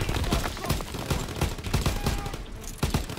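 Bursts of gunfire from the World War II shooter Call of Duty WW2 crackle in quick, irregular volleys, a mix of rifle and automatic fire, loud and close with overlapping shots through the whole stretch.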